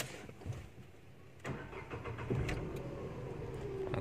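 A Renault Kwid car engine starting up: a short starter crank followed by the engine catching and settling into a steady idle hum, heard close from inside the vehicle without talk.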